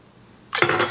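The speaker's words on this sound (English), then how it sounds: "we are going to add 9 cups of water" Water pours into an Instant Pot holding steel cut oats. After a quiet moment it starts abruptly as a steady, splashy rush that continues to the end.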